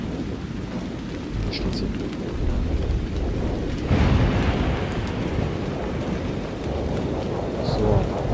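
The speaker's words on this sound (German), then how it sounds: "Der Gewitter, der Donner, der Blitz, der Rumpel." Heavy rain hisses steadily in the video game Haunted Memories, with deep rolling thunder swelling midway and lingering, while a person briefly speaks over the storm.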